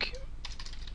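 Rapid clicks of typing on a computer keyboard, a short close burst of several keystrokes.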